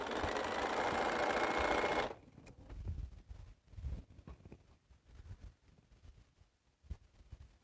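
A sewing machine stitches quilt fabric in a steady, loud whirring run for about two seconds, then stops, leaving faint low bumps and handling noises.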